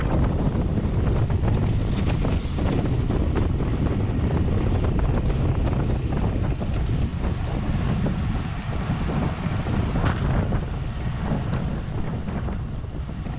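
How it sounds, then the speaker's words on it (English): Strong wind blasting across the microphone during a Category 4 criterium bike race on Randall's Island, a loud continuous roaring buffet with constant gusting rumble throughout, no voices heard. "the wind is coming left to right"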